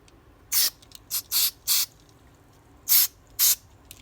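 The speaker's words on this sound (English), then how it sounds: "when you're spraying the main jet, obviously it's going to come out" Six short, sharp hisses of carburetor cleaner sprayed into a generator carburetor's main jet, separated by brief pauses, loud and close in an otherwise quiet space.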